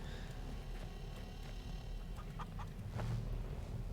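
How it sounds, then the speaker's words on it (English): Chicken clucking in the video game Weird West, a few short bursts over steady ambient game background noise, with no talking. "Come here, chicken."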